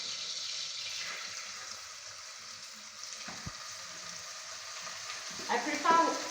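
Rice is tipped into hot oil in a sufuria and stirred, making a steady, close sizzle with a scraping clunk partway through and louder stirring near the end.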